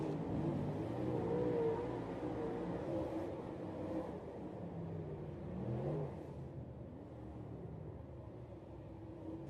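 Dirt late model race cars running hot laps at Tyler County, a distant, blended engine roar rising and falling as the cars circle the track, fairly faint and steady.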